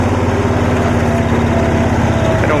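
A 1972 Cushman pickup's small engine runs steadily and loudly throughout a ride, with a constant droning, buzzy putter and no pauses.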